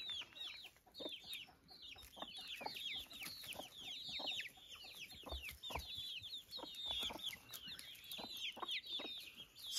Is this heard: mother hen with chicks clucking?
yes